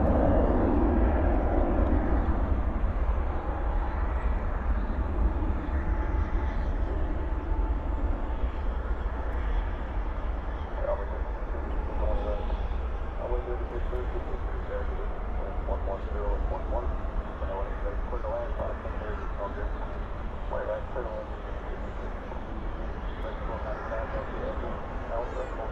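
A constant heavy roar from an airliner landing at night at DFW airport with thrust reversers deployed, rumbling steadily at a distance while voices talk in the background throughout.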